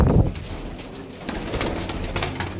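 Flying pigeons in Lahore descend to feed, cooing in a close, continuous rolling chorus with a brief louder flutter at the start.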